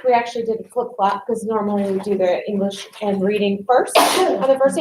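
A single sneeze bursts out briefly near the end, amid continuous speech from a presenter opening a classroom boot camp session.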